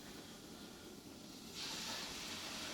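Steak sizzling in a frying pan: a steady low hiss swells abruptly partway through into a brighter, louder crackling sizzle that continues to the end, with no talking.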